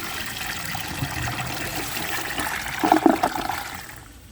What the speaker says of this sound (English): Round front flushers in particular have the most trouble taking grocery bags.